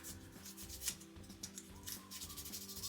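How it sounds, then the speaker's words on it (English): A small Miniverse resin piece rubbed back and forth on sandpaper, a close, soft, rhythmic scratching in repeated short strokes without talk. "So I bet we could sand this down"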